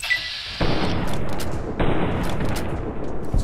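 Hunting rifle shots in the video game Fallout New Vegas: two loud, booming reports about a second apart, each with a long rolling echo that fills the space between them.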